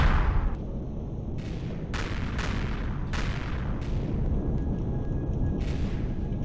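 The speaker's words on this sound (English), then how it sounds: "there's all those blue explosions are definitely thrusters going" Repeated booming blasts of ship thrusters being shot apart in the space game Empyrion Reforged Eden, sounding as a steady barrage of heavy explosions over a dense low rumble with no one talking.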